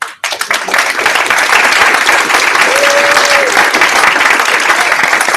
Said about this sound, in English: please give a round of applause to all of our sponsors for making this happen